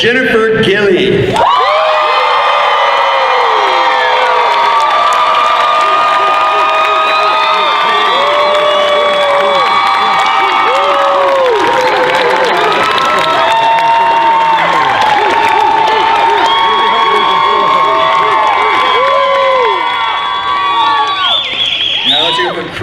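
Large crowd at the Dragon Con Friday night costume contest in Atlanta roaring, cheering and applauding for a contestant, a loud continuous wall of clapping, whoops and shrill shouts lasting throughout.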